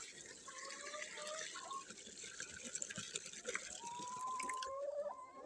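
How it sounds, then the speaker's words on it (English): Water running into a chickens' water container at an outdoor coop, a steady trickling pour with faint splashes throughout. "Just filling up their water."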